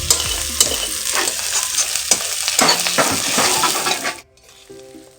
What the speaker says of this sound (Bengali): আর ভাজাটা একটু কড়া করে করব, মানে একটু বেশি তেল দিয়ে করেছি